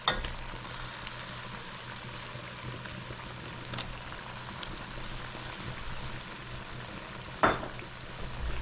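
Shrimp frying in a pan for a shrimp and eddo curry, giving a steady, soft sizzle and crackle that runs throughout, with a sharper spatter or stir near the end.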